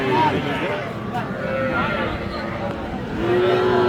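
A young bull calf moos at a village cattle market (Raniganj haat), with short low calls near the start and end rising over steady crowd chatter and people talking close by.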